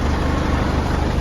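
A camper van engine idles, a steady low rumbling hum close by that stays even throughout, with no talk.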